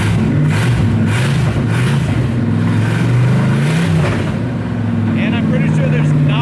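A running engine in a Chevrolet El Camino idles with a steady low rumble close by, its tone wavering slightly as it runs, while a voice talks over it.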